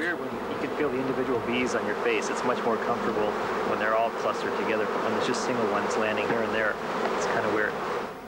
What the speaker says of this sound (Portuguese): you have so many bees, you hear all the loud buzzing around your ears